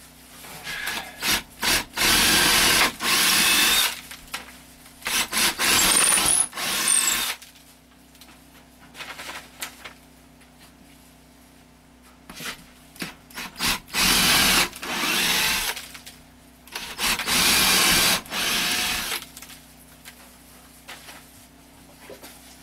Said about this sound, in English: I'm going to drill the holes.